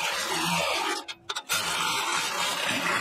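A battery-powered Milwaukee impact tool snugs the sway bar bracket nuts on a Ford F-Series truck. It gives two loud, close, continuous whirring bursts with a short pause between them and no talking.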